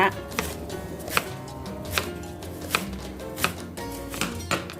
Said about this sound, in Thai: หั่นเสร็จแล้วนะคะ